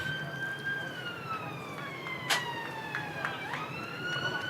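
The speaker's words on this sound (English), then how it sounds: "First siren of the day, I think." A police siren wails from a road behind a cricket ground during a county match, a fairly faint rising and falling tone at a distance over ambient crowd and field noise.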